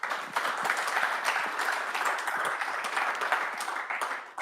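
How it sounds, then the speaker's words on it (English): A conference audience at a sustainable finance event applauds the panelists with sustained, even clapping from many people in a hall, dense and steady with occasional louder claps standing out. "You deserve an applause"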